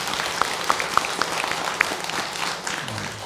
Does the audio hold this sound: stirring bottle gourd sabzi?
no